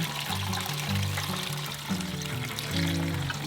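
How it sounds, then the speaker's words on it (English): Coconut milk mixture with pa'akai is poured through a strainer into a pot of chopped ulu, a steady close liquid pour and trickle lasting a few seconds. "And then we're going to pour it in there."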